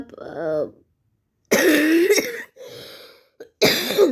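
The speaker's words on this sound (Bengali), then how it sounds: "আমি চুপ থাকি, ভীষণ কাশি হচ্ছে" A few harsh coughs burst out close by at a school sports day, with a short hoarse vocal sound before them and brief pauses between.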